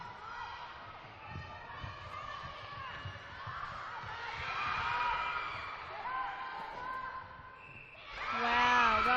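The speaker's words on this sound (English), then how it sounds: "Can you hear the crowd?" Crowd noise at an open-grade netball league match between North Shore United and Sutherland Stingrays, a steady roar of cheering and shouting voices that swells midway and surges loudly near the end, with whoops rising above the din.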